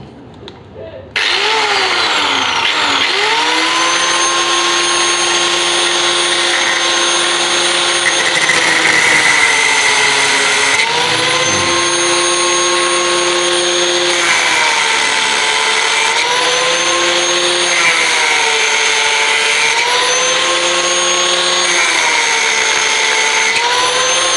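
A Black & Decker G650 angle grinder cuts steadily for over twenty seconds, a loud continuous high-pitched whine whose pitch dips and recovers several times as the disc bites into the workpiece, starting abruptly after a brief quiet moment.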